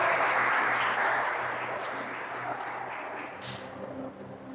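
Congregation applauding during a church sermon, a broad steady wash of clapping that starts full and slowly tapers, with no voices over it.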